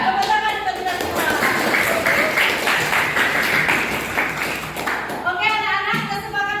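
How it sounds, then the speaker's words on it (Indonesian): A class of eighth-grade students claps together in a classroom, a burst of brisk, close clapping lasting several seconds, framed by a teacher speaking before and after. "Tepuk tangan untuk kita semua."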